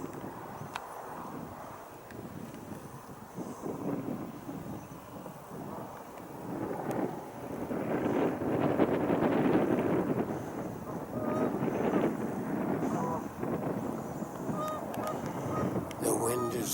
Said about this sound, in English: The wind is turning me and blowing me right now.